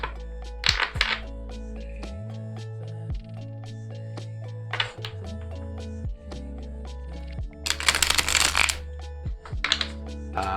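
Tarot cards are shuffled and pulled, with bursts of riffling and soft slaps of cards over a low sustained tone, the handling sounds close and intermittent.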